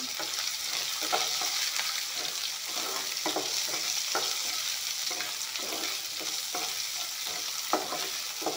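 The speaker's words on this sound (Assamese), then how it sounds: "পাঁচফোৰণৰ লগত পিঁয়াজখিনি ধুনীয়াকৈ ভাজি ল'ম।" Onions frying together with panch phoron spices in a pan, a steady broadband sizzle with scattered stirring scrapes and clicks, close and continuous for the whole stretch, no talking.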